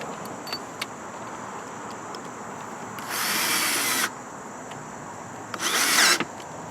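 A power drill drives 2.5-inch screws into 2x4 lumber in two separate bursts, one about a second long and a shorter, louder one near the end, against a quiet background.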